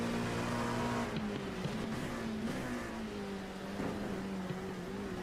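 Porsche race car at Zolder circuit, engine droning steadily close by with a pitch that drops and wavers under hard braking, then climbs again as it chases another car, with faint other engines behind.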